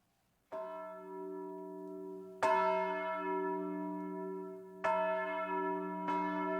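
Church bells ring in Gelnica, including the bell of St. Mary and the bell of the fallen soldiers, with four clear strikes and long humming decays overlapping, loud and alone.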